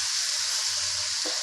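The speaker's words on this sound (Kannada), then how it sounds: "ಅವಲಕ್ಕಿ ಹಾಕ್ಕೊತಾ ಇದ್ದೀನಿ." Beaten rice drops into a sizzling pan of onion tempering while gate avalakki is cooked, a steady bright frying hiss with a brief soft stir or clink near the end, no voices.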